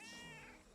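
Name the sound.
pet cat Lumi meowing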